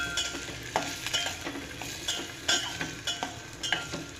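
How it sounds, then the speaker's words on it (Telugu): Onions and green chillies frying in a pan, a soft steady sizzle broken by repeated scraping clicks of a spoon stirring in an uneven rhythm, close by with no talk. "ఇవన్నీ కూడా బాగా మిక్స్ అవ్వాలండి."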